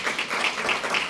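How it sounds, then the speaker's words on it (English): Conference audience clapping at a family and research conference, a brief, close burst of hand claps in an irregular rhythm. "So round of applause for Jovi"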